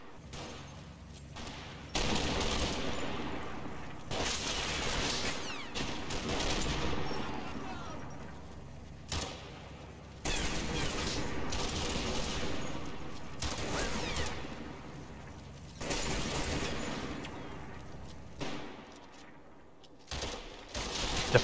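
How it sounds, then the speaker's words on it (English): Combat Mission video game firefight over an allotment, with bursts of rapid gunfire and machine-gun fusillades in repeated waves of several seconds each, separated by short lulls, moderately loud and dense. "The firefight for the allotment is intense."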